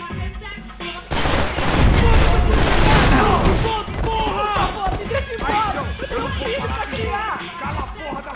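Gunfire in Max Payne 3, set in city slums, with bursts of shots over a dense, loud game mix of explosions and effects, and voices heard throughout.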